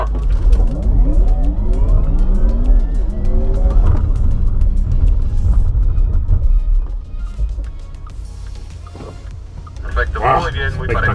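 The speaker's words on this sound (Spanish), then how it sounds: "Vamos por el tercer lanzamiento. Ahora sí, estamos listos." A Porsche Taycan electric car performs a launch start and hard stop on a test course, its rising electric whine sweeping up loudly with tire and mechanical noise, then braking, while people talk near the end.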